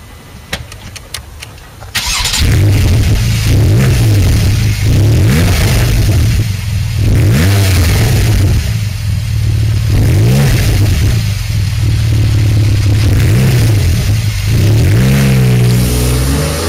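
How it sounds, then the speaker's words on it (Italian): A Porsche 911 991-generation Carrera S Cabriolet engine starts after a brief quiet lead-in, then roars loudly up close through repeated rising and falling revs over a sustained idle rumble. "Andiamo subito a sentire il rombo emozionante."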